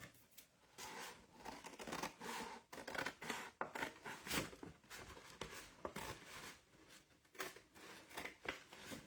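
Scissors snipping through the paper base of a handmade journal, a run of close, irregular crisp cuts and rustles that continues throughout with no talk.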